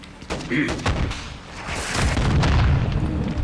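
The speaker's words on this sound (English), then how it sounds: "I feel like the flight of the rocket is too slow." A rocket from a rocket launcher explodes in Modern Warfare 2, giving a loud booming blast with gunfire-like cracks over about three seconds, mixed with game noise and speech.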